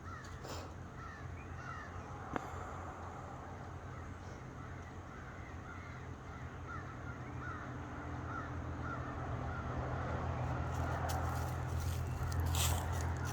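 Crows caw repeatedly in the distance outdoors during an autumn walk, a series of rough calls over steady low background rumble and faint footsteps.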